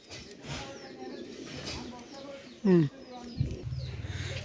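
Pigeons in a loft where a breeder male pigeon is on show, giving a low throaty coo partway through and a short buzzing coo near the end over a busy background of other birds and soft talk.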